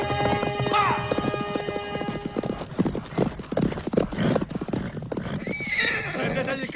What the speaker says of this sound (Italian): Prendetegli il cavallo!